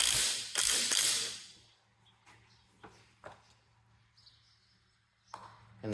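A ratchet wrench with a 15/16 socket tightens a retainer nut on a Cub Cadet 782 lawn tractor steering wheel, a few faint clicking bursts after a louder handling noise, quiet and close with no talk.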